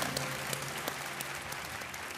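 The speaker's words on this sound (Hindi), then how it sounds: "तालियां बजती रहें देवियों और सज्जनों, तो बहुत अच्छा लगेगा हमें।" Studio audience applause on an Indian television quiz show set, a steady, dense wash of clapping filling the whole stretch at moderate level with no talk over it.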